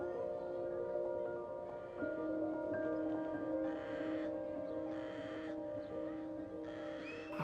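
Crows caw repeatedly at a distance over a steady background hum, the calls coming in short bursts.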